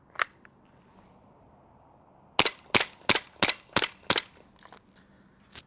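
A SIG Sauer P320 M17 green gas blowback airsoft pistol fires indoors: one shot, a pause, then six sharp cracks in a quick even rhythm, each with a snapping slide report, followed by faint clicks.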